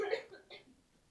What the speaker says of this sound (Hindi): वो खांस रही, वो खांस भी नहीं पा रही